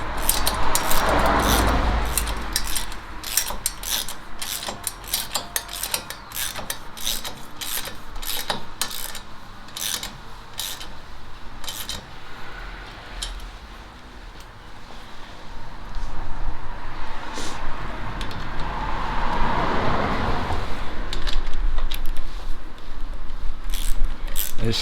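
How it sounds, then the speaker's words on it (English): Front suspension steering arm being bolted up by hand: repeated metallic clicks and ratcheting taps of tools and bolts over a steady background hum, close and moderately loud throughout. "So now I can bolt this up."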